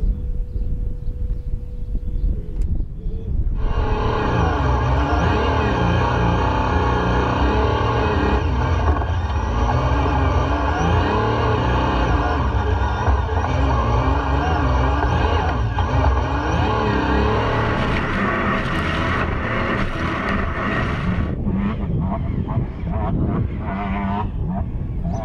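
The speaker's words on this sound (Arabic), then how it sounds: "خالد سواقة ولا أروع، انبسطت كتير" Peugeot 3008 DKR rally car driving close by, its engine loud and continuous with rising and falling revs through most of the run, plus brief scuffing and rattling near the end.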